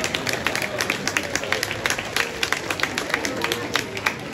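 Audience at a village square festival in Heddesheim clapping, a dense patter of handclaps spread over the whole stretch, moderately loud with crowd murmur mixed in.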